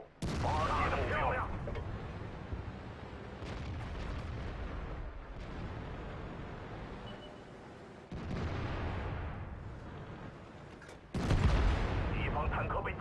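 Tank cannon fire from an IS-2 in the video game World of Tanks, with heavy booming blasts, the loudest near the end, over engine rumble and battle noise, while a voice talks during the action.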